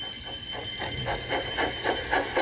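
A steady train rumble with a rhythmic chugging pulse that grows slightly louder, no voices.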